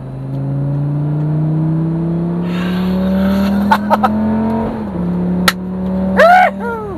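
A Lamborghini Gallardo supercar engine on a drive in Dubai revs with a steady, rising growl that eases off, then settles at a lower pitch. Brief higher whirring chirps cut through near the end.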